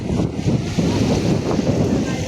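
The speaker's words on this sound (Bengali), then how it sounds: "কিন্তু প্রচুর বাতাস" Strong wind buffets the microphone on the seashore at Patenga beach, a loud continuous low roar with waves faintly beneath it.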